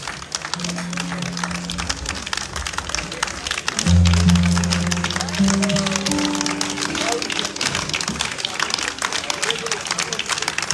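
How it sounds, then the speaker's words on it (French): Audience applause for three child dancers at a Creole ballet performance during an outdoor patronal festival, a steady dense patter of clapping throughout, swelling louder midway under sustained music and a voice. "Ces trois enfants méritent bien vos applaudissements."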